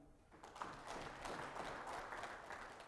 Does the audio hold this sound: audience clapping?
yes